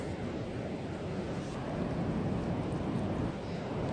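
Strong stormy wind blowing over the Sarımsaklı river near Mesinönü bridge, a dense, steady roar of buffeting gusts and rushing noise with no voices.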